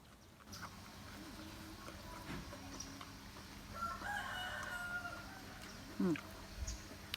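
Chickens and a rooster crowing and clucking at a distance in an outdoor yard, with a steady background hum and scattered rustling.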